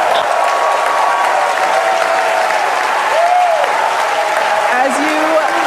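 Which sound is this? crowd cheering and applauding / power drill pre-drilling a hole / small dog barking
crowd cheering and applauding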